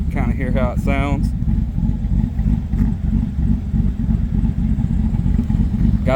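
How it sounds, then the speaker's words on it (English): A 2013 Chevrolet Silverado V8 with a BTR stage 2 cam idles with a steady, lumpy lope, loud and close throughout, with brief voice-like sounds early on. "She's got a pretty good lope for only a stage 2 cam."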